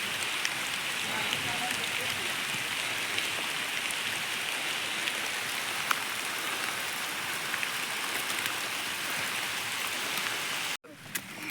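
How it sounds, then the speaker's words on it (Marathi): Steady rain falls on a hill trek at Mandakini Hills, a constant, even hiss of drops on surfaces that runs throughout and cuts off abruptly near the end. "पाऊस आला"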